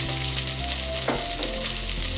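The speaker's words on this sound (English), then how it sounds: "go ahead on and just saute the onion with the bacon" Onions sauté with bacon in a pan over raised heat, giving a loud, continuous sizzle and crackle with a steady hum beneath, with no talking.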